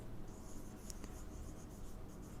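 Faint pen or chalk strokes during a maths lecture on differential equations, a few light scratches set against steady room hiss.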